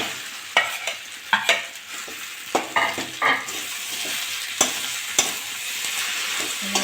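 Mashed boiled potato stirred and fried with browned onions in a pan for aloo chop: a low sizzle broken by repeated sharp spatula scrapes and knocks against the pan, and no talk.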